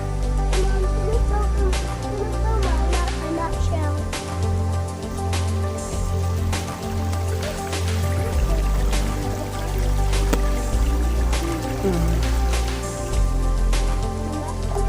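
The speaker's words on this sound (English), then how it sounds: "we are walking up to fill up our water bottles now that we're at the end of our hike" Water bottles are filled from the tap of an outdoor cattle water trough at the end of a hike near Cheran, Mexico. Water runs steadily and splashes throughout, over a low rumbling background.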